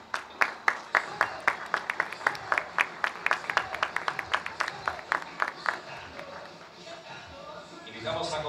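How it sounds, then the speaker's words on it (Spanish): A crowd claps in a steady, even rhythm at a ceremony proclaiming new municipal authorities. The beat fades after several seconds and a voice then speaks. "aplausos"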